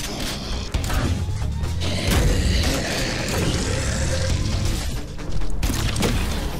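Heavy cannon-like weapon fire in the shooter game Prodeus, loud and dense, with booming low-end impacts and crashing mechanical clatter running continuously and swelling near the end.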